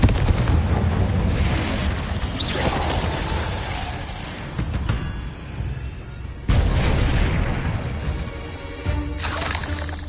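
Spell-casting combat in the video game Hogwarts Legacy, with repeated loud booming explosions and shattering blasts in heavy bursts separated by brief lulls.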